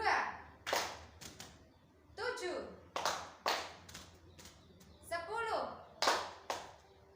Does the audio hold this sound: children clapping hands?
yes